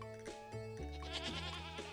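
A goat bleats in the farming video game Stardew Valley, a few wavering bleats over soft background game music, with no voices.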